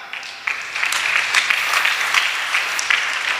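Sustained applause from a church congregation fills the whole stretch, dense and steady with sharper claps popping out now and then.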